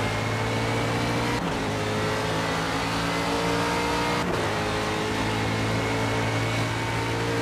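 Aston Martin GTE race car engine in Project Cars at Mojave Cougar Ridge, a loud sustained high-revving drone with two brief gear-shift dips, steady and close throughout.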